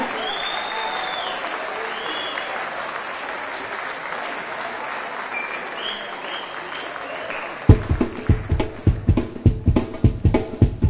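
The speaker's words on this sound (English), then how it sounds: "On les applaudit très fort." An audience at a rock festival applauds a band in a long, steady roar of clapping and cheering, then rhythmic clapping takes over near the end.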